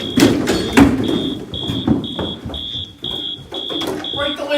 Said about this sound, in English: Is that a fire alarm?